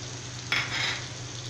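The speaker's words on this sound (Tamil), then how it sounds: "இப்போ நல்லா வந்து கிளறிக்கலாம்" Carrot and beans kootu with coconut paste stirred in a pan, a soft scraping swish that rises suddenly and carries on steadily over a faint low hum.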